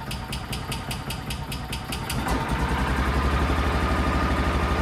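Barn-find Kawasaki Mule 550 engine running on a little choke, first a choppy uneven idle with rhythmic knocking, then rising to a fuller, smoother, louder drone as gas is given, close by with no talk.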